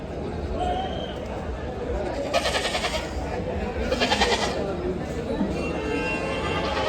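Several goats bleat at a large goat, sheep and poultry market in Maharashtra, over a dense, noisy background with people chattering; two louder bursts of bleating stand out midway through.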